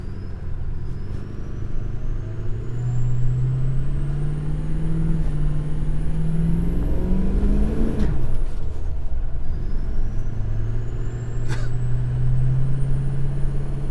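A 6.0 Powerstroke diesel truck with MBRP side pipes accelerates on a slick road, its engine drone rising steadily in pitch, then dropping abruptly and climbing again, loud and close with a whistling turbo above.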